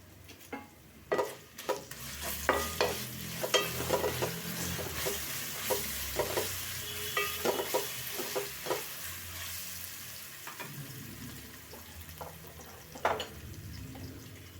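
Ginger paste fries in a pan for fish curry, a soft sizzle under repeated spoon scrapes and taps against the pan, close and fairly quiet, with no voices.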